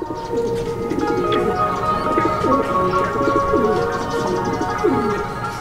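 Racing pigeons coo repeatedly in a loft, soft rolling calls recurring in a loose rhythm close by, with a few chirps and steady background noise.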